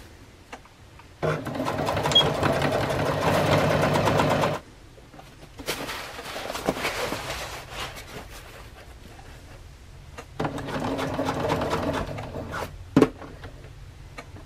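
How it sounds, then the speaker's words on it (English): A sewing machine stitching a strap onto a sleeping bag stuff sack, running in close, steady whirring bursts separated by quiet pauses, with faint handling noise in between. "have my end of the material rolled up so I can feed it through the machine, and I have my strap in place where I'm going to sew and stitch here 1 inch on this end"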